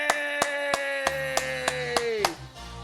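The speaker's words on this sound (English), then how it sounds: "Please give yourself a big round of applause." Graduates of a two-day class clap for themselves at their graduation, evenly spaced claps sounding over a sustained musical tone that fades out at the end.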